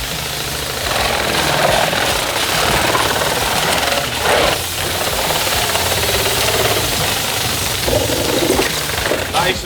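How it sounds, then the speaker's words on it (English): A Super Shear gas-powered saw cutting through foam insulation in a wall, a loud, steady engine drone with a rough, vibrating buzz that holds nearly constant and dips briefly twice as the cut shifts. "I always let the saw do the cutting."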